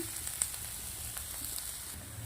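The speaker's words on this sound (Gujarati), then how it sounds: "આદુ લસણ મરચાં ડુંગળી સિમલા મરચું મસ્ત મજાનું આપણે આવી રીતે શેકી લેશું" Ginger, garlic, chillies, onion and capsicum sizzle in a pan while being stir-fried, a steady soft frying hiss with a faint click or two.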